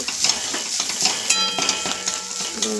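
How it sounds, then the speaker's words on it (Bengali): An egg sizzles in a pan, cooked ahead of a chowmein with potato and peas, with a bright crackling hiss and quick metallic scrapes and clinks from a stirring utensil close by. "ডিমটা ভেজে নিচ্ছি"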